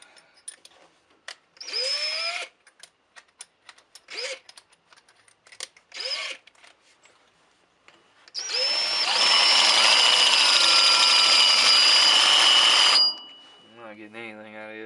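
Power drill with a 3/8 bit working on a broken-off bolt, heard as three short whining bursts followed by a long, loud, steady high-pitched grind that cuts off abruptly.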